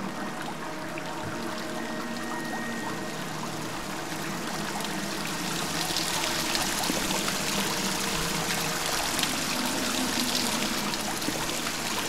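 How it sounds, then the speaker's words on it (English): Steady babbling stream water flowing through the landscape of the video game Dear Esther, a continuous trickling wash that swells slightly louder in the second half, with no voices. "Where does that water flow to, I wonder?"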